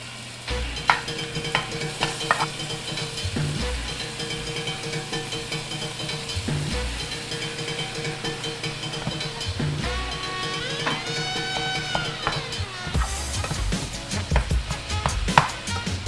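Ground turkey and garlic sizzle steadily in a hot pan while a utensil stirs and scrapes, adding clanks at irregular moments. The frying hiss runs the whole time, close and moderately loud, with no speech.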